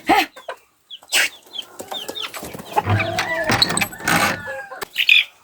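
Chickens cluck and squawk close by in a busy, uneven chatter, with a quick flutter of wings.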